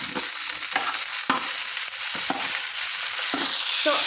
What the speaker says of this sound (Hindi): अभी हम लोग इसमें बीन्स ऐड करेंगे और इन्हें भी जिंजर और गार्लिक के साथ अच्छे से फ्राई कर लेंगे